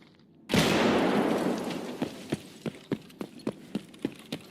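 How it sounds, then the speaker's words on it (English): A frag grenade detonates in Escape from Tarkov with a loud, close blast that decays over about two seconds, followed by a string of sharp, evenly spaced gunshots. "Enemy frag!"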